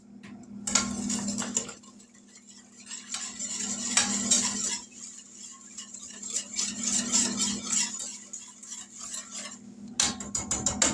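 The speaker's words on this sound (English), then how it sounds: "going to give that a bit of a stir" A spoon stirring coconut cream pie filling with sugar in a pot, repeated close metallic scrapes and clinks in uneven bursts with short pauses between strokes.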